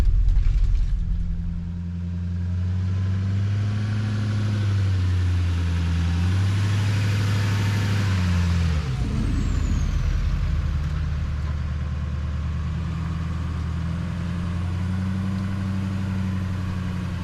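A truck driving along a sandy forest trail with small dips, giving a steady low engine rumble with slight shifts in pitch as it rolls over uneven ground.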